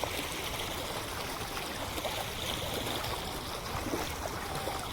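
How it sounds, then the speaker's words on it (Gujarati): Floodwater after heavy rain rushes over a village road, a steady, dense roar of flowing water with no pauses, moderately loud and continuous throughout. "હજુ પણ આ પાણી જવાનું રોડ ઉપરથી ચાલુ જ છે"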